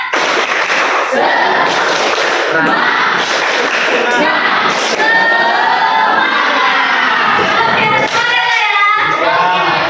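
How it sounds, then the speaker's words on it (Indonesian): A class of high school students in a classroom bursts into a rhythmic spirit clap, sharp claps at the start giving way to loud, continuous group chanting and cheering that fills the room for about ten seconds. "Tepuk semangat."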